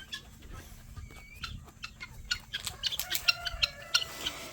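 Chickens and guinea fowl cluck and call in a farmyard, with scattered short clucks early and denser, sharper overlapping calls building toward the end, fairly close and alone without talk.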